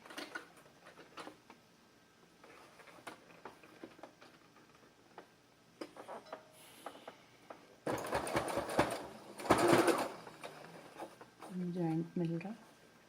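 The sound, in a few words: sewing machine stitching the side seams of a baby frock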